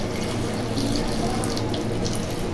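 Water pours steadily into a cooking pan of sautéed ampalaya, a continuous close splashing rush with no break.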